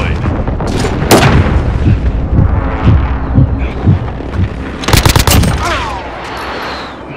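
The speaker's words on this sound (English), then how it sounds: "Friendly precision airstrike on the way." Precision airstrike explosions in the video game Call of Duty: Modern Warfare, heavy blasts around the one- and five-second marks amid rapid rhythmic gunfire, loud and close, with game voice chatter underneath.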